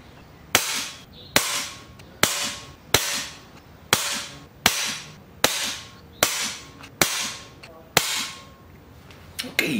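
A .22 (5.5mm) air rifle firing pellets on medium power, ten sharp, loud shots spaced evenly about a second apart, each a crisp crack with a short decaying tail, close by and with no talking.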